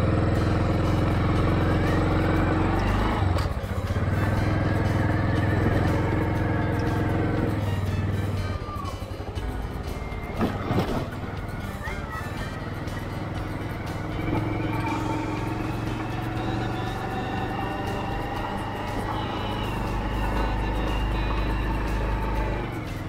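A large motorcycle climbs a mountain road, its engine buzzing loudly and close, dropping away and rising again through gear changes partway through, then settling into a steady run.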